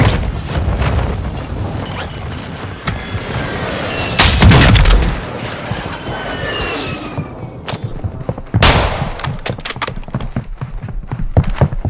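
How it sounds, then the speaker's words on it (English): Hostile airstrike in Call of Duty Warzone on the Vondel map, heavy explosions booming at intervals among rapid clattering gunfire and impacts, loud and close, with no talk. "Hostile airstrike incoming"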